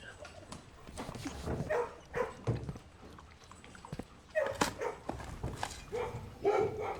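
A dog barks and whimpers in a few short bursts close by, mixed with soft shuffling sounds, in an indoor setting.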